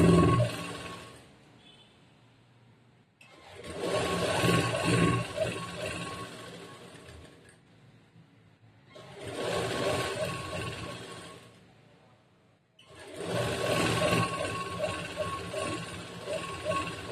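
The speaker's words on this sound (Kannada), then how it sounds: "ಇವಾಗ ಒಂದ್ ಸೈಡ್ ಸ್ಟಿಚ್ ಮಾಡ್ಕೊಂತೀನಿ" A sewing machine stitches along one side of a fabric strip for a blouse sleeve, its motor whirring in four separate runs of a few seconds each with short quiet pauses between them.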